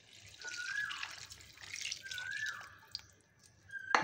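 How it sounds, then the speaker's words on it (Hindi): Water is poured into an egg and potato curry gravy in a pan, a soft trickling splash in a few short bursts, close and fairly quiet. "और अब इसमें मैं डाल रही हूँ पानी।"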